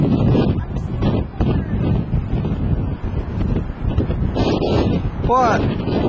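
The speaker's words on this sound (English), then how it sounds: "It's windy" Strong wind buffets the microphone outdoors at a government center, a loud continuous rumble with gusty surges and people's voices faintly mixed in.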